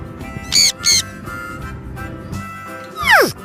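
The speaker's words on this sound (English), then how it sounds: "Parrot." A parrot lets out loud, close squawks: two short harsh calls, a pause, then a longer rising-and-falling screech at the end, with no talking over them.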